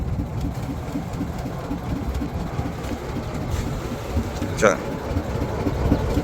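A trawler boat's engine chugs in a Sundarbans canal, a close, low, rapid rhythmic thumping that runs steadily throughout, with a brief higher scrape or squeal near the end.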